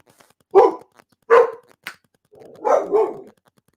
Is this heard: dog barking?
yes